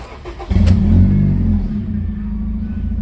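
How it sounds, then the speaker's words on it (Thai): A Honda Civic FD's engine, fresh from an ignition coil replacement, revs up sharply and cleanly, then holds a steady, smooth idle rumble through the exhaust, with no voices. "เนี่ยสังเกตเสียงท่อครับผมเปลี่ยนเลย"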